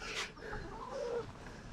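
Backyard chickens let out in the morning, giving a few soft, low clucks at close range amid light outdoor background noise, with no talking.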